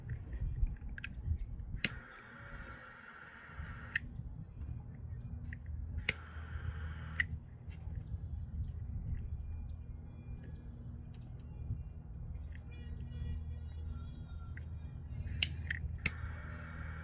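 Scissors snip through electrical wires being cut to length for a Jeep Grand Cherokee wiring loom, a handful of sharp, close clicking cuts spaced across a quiet room hum.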